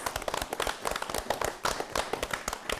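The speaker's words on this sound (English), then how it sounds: "Give yourselves a round of applause." A studio audience and panel at a Halloween special give a round of applause, a dense, lively patter of many hands clapping steadily and fairly close throughout.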